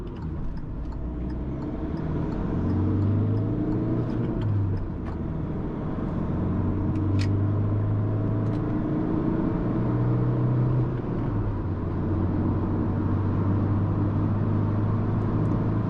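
A Hyundai i20 pulls hard in fifth gear on a top-speed run, heard from inside the cabin as a steady low engine drone and road rumble, with pitch rising in stretches as it gains speed.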